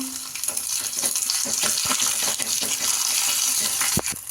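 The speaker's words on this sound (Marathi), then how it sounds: "तीळ घालूया एक टेबल स्पून" Sesame seeds sizzle in hot oil for a tempering with green chillies and curry leaves, a steady bright crackling hiss with small pops, close and continuous with no talk.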